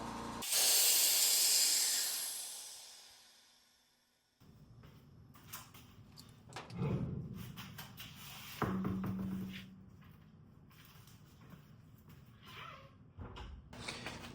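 Air hisses loudly from a custom car's airbag suspension as it inflates, a strong burst that fades over a few seconds, followed by quieter clanks, taps and handling noises in a garage.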